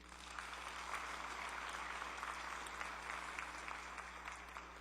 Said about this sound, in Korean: 수고해 주신 찬양팀에게 큰 박수 부탁드립니다